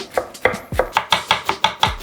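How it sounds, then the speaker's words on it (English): A knife finely chopping vegetables on a cutting board, about nine steady, evenly spaced chops, close and crisp, with no talking. "I'm going to chop this up."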